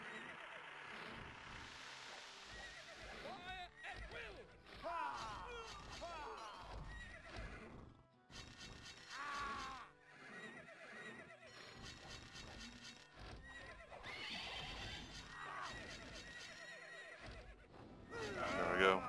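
Horses neigh and whinny repeatedly amid clip-clopping hooves and battle noise in the medieval strategy game KAM Remake, with the calls loud and frequent over dense game sound.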